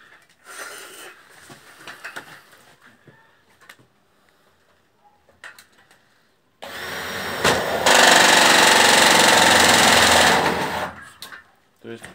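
Power screwdriver driving self-tapping screws through two roof ridges and corner pieces of a window vent block, a long loud steady whir near the end after scattered handling clicks and quiet fiddling.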